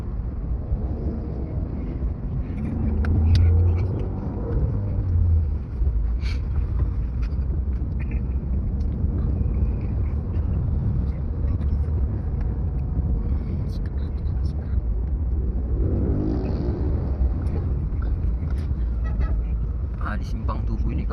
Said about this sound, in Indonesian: Agak lumayan macet ya kawan-kawan ya